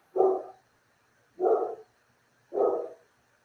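Puppies barking: three short, evenly spaced barks about a second apart, close and clear against a quiet background.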